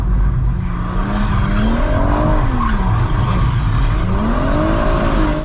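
Continuous loud tyre squeal from a BMW M140i under wheelspin, with wavering pitch over a roaring, revving engine, sustained throughout without pause.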